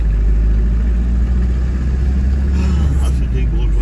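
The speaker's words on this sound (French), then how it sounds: "C'est ma voiture ici, la R25." A Renault R25 with a 9-horsepower petrol engine hums steadily at idle, a loud, even low-pitched drone heard close up, with a voice talking over it.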